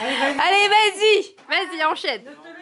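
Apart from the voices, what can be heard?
No distinct noise like a dog, phone or traffic.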